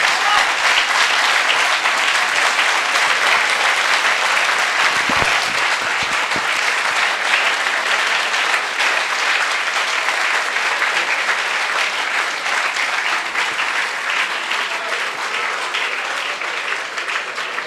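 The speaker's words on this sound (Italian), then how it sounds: "Se le primarie finiscono come questi applausi" A large audience at a Festa Democratica political rally in Turin applauds for Massimo D'Alema, a loud, dense, sustained clapping that holds steady throughout, with no voices rising above it.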